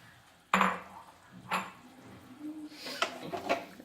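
Boiled jackfruit seeds stirred into a simmering curry in a pan: a few distinct spoon-against-pan scrapes and clinks, moderately close, with soft bubbling between strokes.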